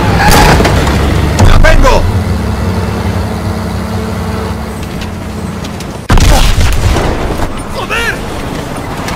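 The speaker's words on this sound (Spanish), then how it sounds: "¡Granada!" A grenade explodes in the Call of Duty: WWII campaign, a sudden loud blast near the six-second mark rising over a constant roar of battle and vehicle noise, with shouting voices throughout.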